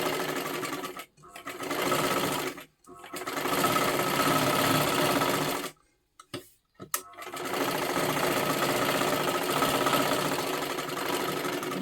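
A sewing machine stitches silky fabric for a lining, its steady motor whir running in long bursts that stop and start in several brief pauses.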